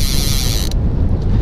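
Heavy wind over rough seas at Coyote Point buffets the microphone aboard a Porta-Bote with a loud, rumbling roar, and a brief higher hiss cuts out partway through.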